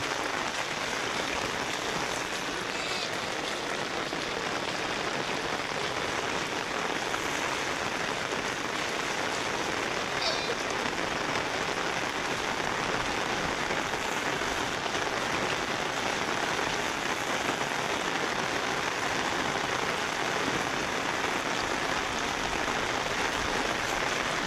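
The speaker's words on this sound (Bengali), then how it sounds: "বৃষ্টি বেশি হচ্ছে" Heavy monsoon rain pours down outdoors where sheep graze, a dense, unbroken hiss of drops that stays loud and even throughout with no voices.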